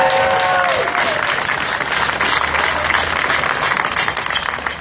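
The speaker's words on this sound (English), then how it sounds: "those people who've been fighting this battle for years before any of us were even here on this planet, deserve a special applause right now" Loud, sustained crowd applause and cheering fills the space at a marriage equality celebration, a dense wash of clapping running steadily throughout with a brief voice or whistle near the start.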